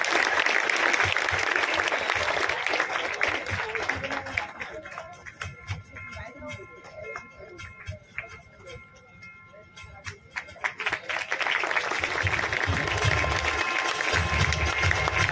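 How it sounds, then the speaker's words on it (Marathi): An audience claps at a student award presentation during a marathon event held for Chhatrapati Shivaji Maharaj Jayanti, applause swelling loud at the start and end with a quieter patter between, and a speaker's voice over the clapping. "कौतुकाच्या टाळ्या परत परत कमी पडत आहेत."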